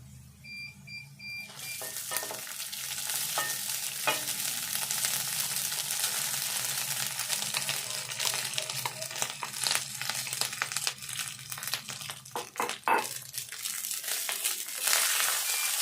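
Cooked rice tips into onion masala frying in a pan, a crinkling rush followed by close sizzling and irregular scraping as it is stirred, with a faint beeping early on.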